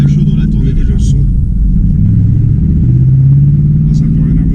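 Warmed-up 2010 Ford Mustang V8 engine with engine and chassis tuning, a steady low, loud rumble with slight rises in pitch, heard under a person talking.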